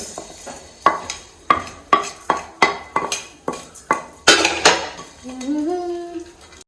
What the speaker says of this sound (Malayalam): നമ്മൾ മുറിച്ച് വെച്ച സേമിയ ഇതിലേക്ക് ഇട്ടുകാണ്ട് ഒന്ന് റോസ്റ്റ് ചെയ്തെടുക്കുകയാണ്